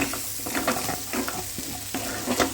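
Ginger garlic paste sizzles in hot oil with raw prawns while a spoon stirs and scrapes through it in repeated strokes, a steady close frying hiss with clattering stirs.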